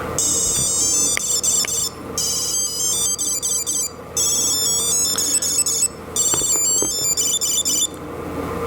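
A Tile Bluetooth tracker plays a shrill electronic ringtone in repeated bursts with short gaps, loud and close, over a faint background hum.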